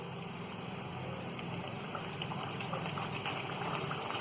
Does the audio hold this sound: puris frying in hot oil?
yes